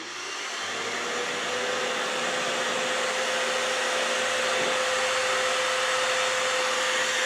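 An Eufy E28 robot vacuum runs its hose self-cleaning function with a loud, continuous motor whine and airflow roar that ramps up briefly and then holds steady and close, with a faint tonal hum underneath.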